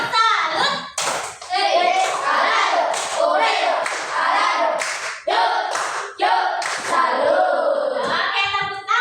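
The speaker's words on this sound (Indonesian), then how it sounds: "kasih tepuk salut dong untuk kelompok 2. Tepuk salut." Schoolchildren in a classroom clap in rhythmic, patterned bursts to cheer group 2, with chanting and talking voices mixed in and short pauses between rounds.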